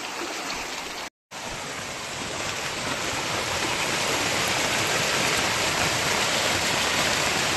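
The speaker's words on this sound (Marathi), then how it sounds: "पाण्याचा प्रवाह, हा प्रवाह खूप जोरदार आहे" A powerful river current surges past, a dense loud rushing roar that runs on steadily after a brief dropout near the start.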